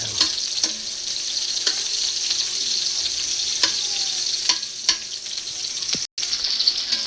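Onion hits a hot pan in a home kitchen, giving a loud, continuous frying sizzle with intermittent sharp scraping clicks of stirring, and a brief cut near the end.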